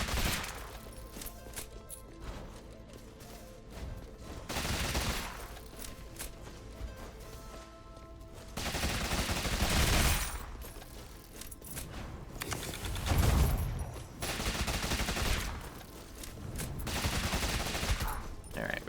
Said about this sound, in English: Alright, we're shooting,